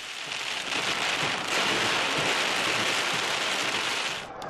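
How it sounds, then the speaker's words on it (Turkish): Heavy rain pours down in a dense, constant hiss at the Kaaba in Mecca, drumming hard on surfaces before easing slightly at the end. "Yağmur öylesine şiddetli bastırdı ki yollar adeta nehre dönüştü."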